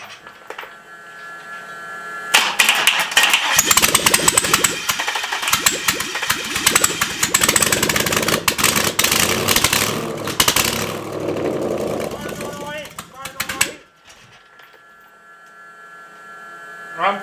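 A four-cylinder engine starts up and runs, sputtering and revving loudly in a rough, pulsing roar for about ten seconds before settling down to a lower, quieter idle hum.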